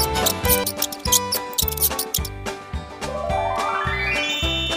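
A mouse squeaks in quick, high, chirpy bursts at the start, set against a steady rhythmic music backing that carries a rising sweep later on.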